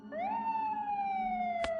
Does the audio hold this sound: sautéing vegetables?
no